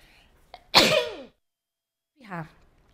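A single loud, close sneeze bursts out after a short inhale, followed a moment later by a brief vocal sound, then quiet.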